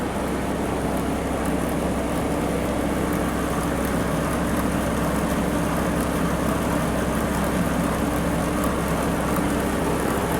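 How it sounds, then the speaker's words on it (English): A snowblower on a Ford 1210 tractor runs steadily in a smooth, continuous drone with a low engine rumble and broadband whoosh, even and unbroken throughout, with no talking. "That's some smooth sounding blower"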